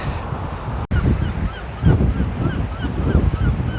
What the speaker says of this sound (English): Look at all these gulls.